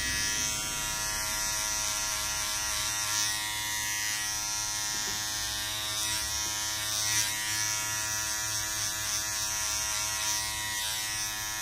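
Electric hair clippers fitted with a number 2 guard cutting hair during a regular haircut, a steady close buzz that holds throughout with slight shifts in pitch as the blade moves, no speech.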